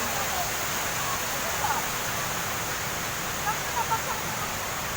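A river runs cold and clear in the early morning, its water rushing in a steady, unbroken wash of noise that stays even throughout without any distinct splashes.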